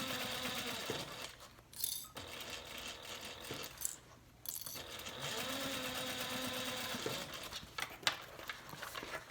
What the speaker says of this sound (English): So we're just sewing around.